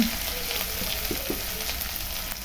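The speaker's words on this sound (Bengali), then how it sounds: "মশলাটা কষানোর পরে আমি আলু দিয়েও কষিয়ে নিলাম।" Spice paste stir-fried in a pan, a soft continuous sizzle with a few faint stirring scrapes, fairly quiet throughout.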